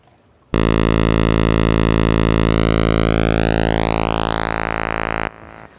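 Steady synthesizer pulse wave droning on one low pitch while its width is gradually narrowed, so the tone thins and grows buzzier and more nasal, then cuts off abruptly after about five seconds.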